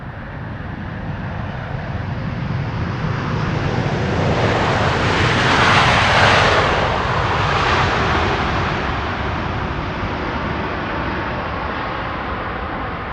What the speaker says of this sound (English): Idle reverse there. You could definitely hear that the engines did not spool up.